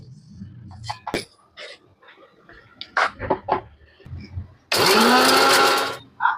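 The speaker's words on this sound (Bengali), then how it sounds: "মশলাটা আমার ঠান্ডা হয়ে গেছে, এবার এটাতে মিক্সিতে দেবো" A kitchen mixer grinder whirs loudly and steadily for about a second and a half, grinding roasted spice mix for Katla ghee roast, after a stretch of speech and light kitchen clinks.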